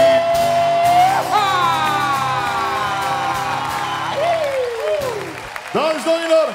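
A concert audience at the Palace Hall applauds and cheers for a singer, a dense wash of clapping that runs under a loud voice speaking over it throughout.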